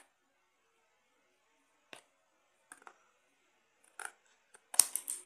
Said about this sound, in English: For that I have to cut it from here.